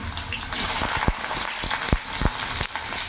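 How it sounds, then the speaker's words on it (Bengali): Cut eggplant frying in hot refined oil in a kadai makes a dense, close sizzle, punctuated by several sharp crackling pops spaced through the clip. "তেল গরম হয়ে গেছে এবার কেটে রাখা বেগুনগুলো আমি ভেজে নেবো"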